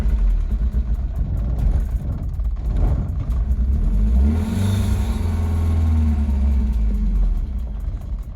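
A BMW E30 318i engine catches after a push start and revs, a loud close rumble rising and swelling mid-way, then holding a steady higher drone, with no talk over it.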